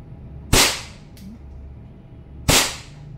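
Two sharp, loud reports from a WE 1911 standard silver gas blowback airsoft pistol charged with number 9 gas, roughly two seconds apart, each with a bright crack and quick decay.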